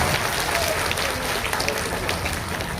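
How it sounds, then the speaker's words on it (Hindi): A standing audience at the first convention of the Janata Samajbadi Party Nepal in Madhesh Province gives steady, dense applause, many hands clapping at once with a faint crowd murmur beneath. "खड़े होकर के एक बार ताली बजाकर समर्थन कर देंगे"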